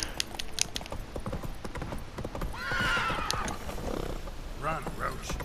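A horse in The Witcher 3: Wild Hunt gallops with rapid, steady hoofbeats and gives a couple of loud whinnies, with a voice speaking over the game sounds.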